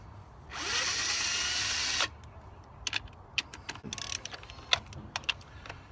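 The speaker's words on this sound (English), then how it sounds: "And then I can use the drill" A battery power drill, used while working on a Chevy Sonic, runs in one steady whir for about a second and a half, then stops, followed by scattered clicks and clatter from handling parts.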